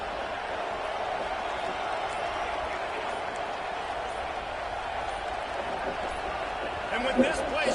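A steady roar from a stadium crowd in a college football video game holds at a constant level throughout and swells slightly near the end, under a commentator's voice.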